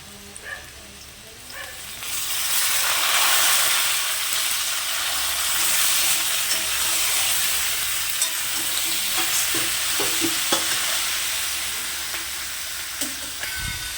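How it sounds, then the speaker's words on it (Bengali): Soy chunks sizzle loudly when added to a hot pan with fried potatoes, a sudden onset, steady hiss and occasional stirring clinks, then gradually settle. "এবার আমি সয়াবিনটা এর মধ্যে দিয়ে দেবো।"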